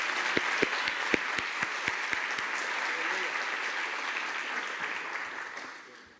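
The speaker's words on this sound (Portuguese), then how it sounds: "Vamos aplaudir a Jesus?" Congregation applauding in a church, steady dense clapping from a crowd that holds for several seconds before fading out, with a few louder claps standing out near the start.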